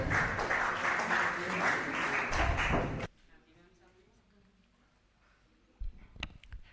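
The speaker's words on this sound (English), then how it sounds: "Huge round of applause." Audience at an international college event claps loudly for a presenter for about three seconds, then the clapping stops abruptly, leaving a quiet room with a few faint thumps.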